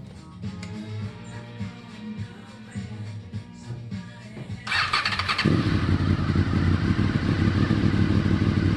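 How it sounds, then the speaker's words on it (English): A Honda VFR 800 motorcycle cranks with a squeal and clatter, catches and fires up, then settles into a steady, loud, close idle with no talking. "I start the bike, let it idle for a few minutes."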